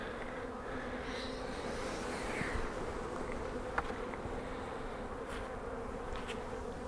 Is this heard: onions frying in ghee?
no